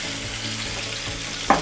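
Vegetables fry in a little oil in a pan, a steady close sizzle with a brief sharper crackle near the end.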